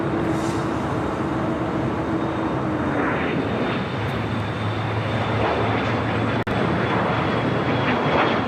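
Airplane taking off from runway 25 right at LAX, a loud continuous jet engine roar that holds steady and broad throughout, with a faint rising tone partway through and no voices.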